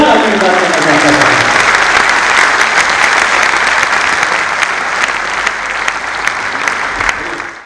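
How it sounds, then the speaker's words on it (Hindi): A Hindi kavi sammelan audience claps vigorously for a poet, a loud, sustained wash of applause that holds steady throughout. "एक बार जोरदार तालियां करना चाहता हूं।"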